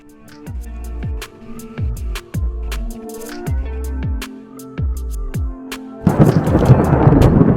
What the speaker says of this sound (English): Wonderful thunderstorm there, wonderful roll of thunder.